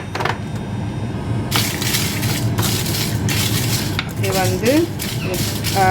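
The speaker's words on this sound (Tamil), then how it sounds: "அதே பாத்திரத்தை வச்சு நான் செத்தல் மிளகாய் எடுத்து வச்சுக்கிறேன். 15லேருந்து 20 அதையும் வதக்குவோம்." Fifteen to twenty dried red chillies roasted in a pan for Jaffna-style sambar powder, with loud metallic scraping and clanking of a utensil, bursts of stirring over a low sizzle and a brief faint voice-like sound near the end.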